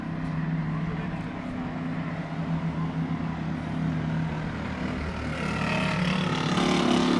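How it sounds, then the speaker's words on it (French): Race cars in the 24 Hours of Spa-Francorchamps endurance event go by in a steady, loud engine roar, harmonic drones swelling toward the end as more cars arrive. "J'attends que les voitures soient passées pour continuer."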